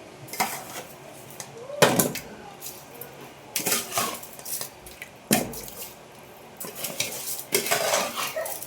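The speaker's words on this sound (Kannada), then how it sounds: "ಇವಾಗ ಅಕ್ಕಿ ತೊಳ್ಕೊಂಡಿದ್ದೀನಿ, ಅಕ್ಕಿನ ಹಾಕೊಳ್ಳೋಣಂತೆ." Washed rice poured into a pressure cooker pot for vegetable pulao, a string of clattering metal scrapes and knocks with stirring and wet dribbles, several sharp bursts over a quiet kitchen background.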